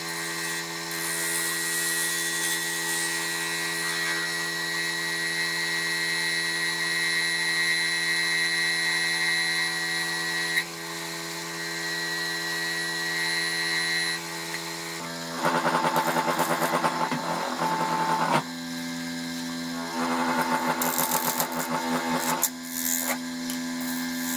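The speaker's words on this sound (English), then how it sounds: "quick sandy sand with some 80 grit" A punky wooden bowl spins on a lathe, with a steady motor hum, as 80-grit sandpaper is pressed against it in several rough, raspy bursts.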